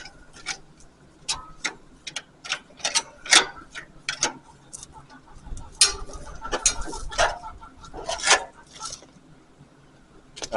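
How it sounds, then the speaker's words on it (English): Metal screwdriver and an old splitting wedge scraping and knocking caked dirt out of haymaking machinery, heard as irregular close scrapes and sharp clicks scattered throughout. "I'm using a screwdriver and an old split and wedge because I forgot my scraper at work"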